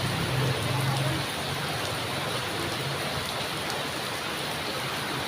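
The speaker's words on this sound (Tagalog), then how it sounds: "Lakas ng ulan." Steady, dense rain hisses evenly throughout, a constant wash of falling water with no breaks.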